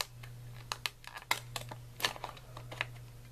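Paper is cut for a small handmade calendar, producing irregular close, sharp snips and crinkles over a steady low hum, with no talking.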